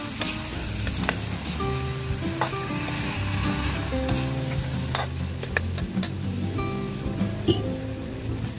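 Lechon kawali pork frying in a pan for a Batangas-style pochero, a steady close sizzle with scattered pops and crackles throughout.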